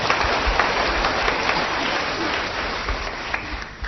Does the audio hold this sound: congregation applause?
yes